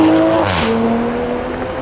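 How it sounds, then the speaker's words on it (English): A 2019 Toyota Supra launches up the Goodwood hill climb, its engine note loud and close, rising in pitch, with a brief tyre squeal and a gear change in under two seconds. "We can now take a look at it launching up the Goodwood hill climb."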